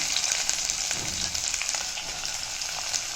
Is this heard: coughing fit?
no